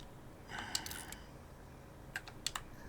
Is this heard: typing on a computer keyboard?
yes